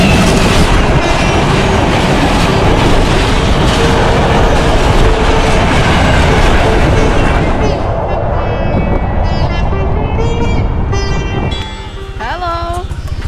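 A train rumbles past close by, loud and continuous with a clattering rolling roar that fades and thins toward the end, with faint voices near the close.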